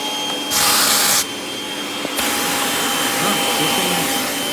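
A Kirby Sentria G10D upright vacuum cleaner runs with a loud, steady whine, its pitch jumping higher for a moment and dropping back as the airflow changes, a faint click partway through.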